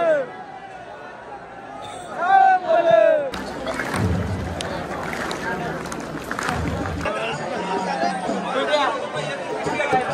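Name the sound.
dense crowd chatter at night temple fair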